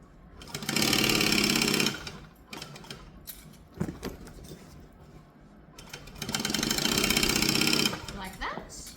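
Sewing machine stitching fabric in two loud, fast runs of about a second and two seconds, with quieter handling and a voice speaking in the gap between them.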